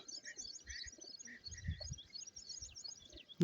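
Small birds chirp in quick, high bursts while a pigeon coos softly underneath; the calls are faint and scattered, with no talking.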